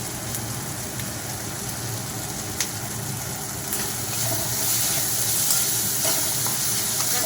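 Flat beans frying in a pan with ginger paste, turmeric, salt and gram flour give off a steady, close sizzle with light stirring scrapes, continuous and alone throughout.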